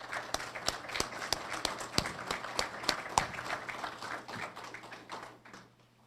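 Applause for sheriff's command staff at an adult correctional academy graduation, heard as sparse, sharp claps with a few louder taps over steady room murmur, thinning out toward the end.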